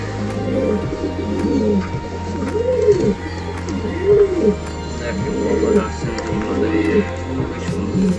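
Copper archangel pigeons coo close by in a repeating pattern of soft, rolling, throaty calls, several birds overlapping in a steady rhythm.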